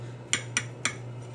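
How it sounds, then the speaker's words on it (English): A knife cutting into a boiled sweet potato on a plate: three light, sharp clinks evenly spaced, close and clear over a steady low hum. "now I'm going to grab one of these sweet potatoes and slice it open to see how well it has cooked"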